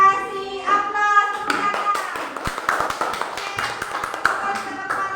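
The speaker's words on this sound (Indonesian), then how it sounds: "Kasih aplaus" A classroom group claps for a student group's presentation, with scattered hand claps and taps following a voice and continuing under children's chatter.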